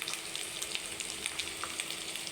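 Garlic paste and bay leaf frying in oil for a katla fish curry, a quiet, steady sizzle with light intermittent crackles and pops, no talking.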